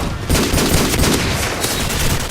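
Video game gunfire erupts in a dense, loud burst of rapid automatic shots, continuous and harsh for about two seconds, with no talking over it.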